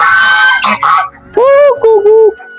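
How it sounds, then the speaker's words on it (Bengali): Domestic geese on an agro farm in Sreemangal, Bangladesh, give a few close, nasal honks in two short bursts, after a brief stretch of voice and other fowl sounds. "ও রাজহাঁস, রাজহাঁস"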